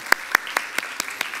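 Clapping at a Sunday church service, heard as a crisp, evenly spaced series of seven sharp claps in quick rhythm, close and distinct over a quiet background.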